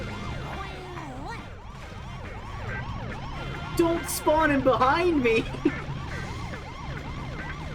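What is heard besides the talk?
police car siren chasing, from the video game The Simpsons Hit and Run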